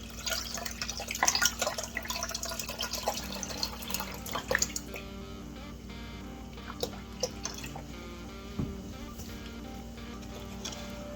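Beef broth splashes and trickles into a pan up close, strongest at first, then tapering to faint drips over a low background hum.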